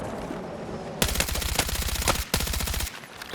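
Suppressed automatic gunfire in the Battlefield 6 video game, two rapid bursts of sharp, evenly spaced shots over a low ambient rumble, loud and close.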